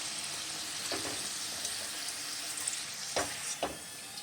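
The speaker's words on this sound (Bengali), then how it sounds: "এবার আমি একটা একটা করে ভেজে নেব।" Pitha cakes fry one at a time in hot white oil in a kadai, producing a steady, close hiss and crackle with a few sharper pops and spatters.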